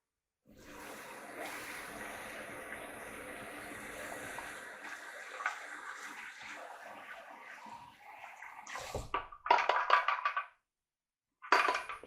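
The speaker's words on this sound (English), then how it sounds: "just going to rinse it off real good." Running water rinsing out a dirty, gunk-fouled suction machine, a steady splashing rush for several seconds, then a pause and louder bursts of spraying and clattering near the end.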